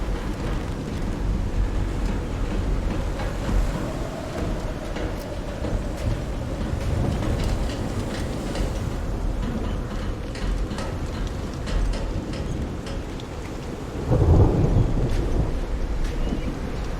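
Steady rain and wind roar over the sea during a thunderstorm in the game Call of the Sea, with a low thunder rumble swelling near the end; no one speaks.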